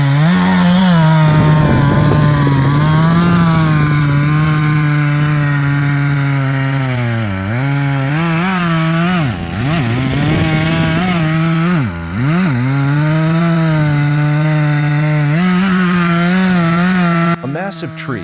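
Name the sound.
chainsaw cutting into tree wood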